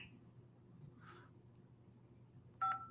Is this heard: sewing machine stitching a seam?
no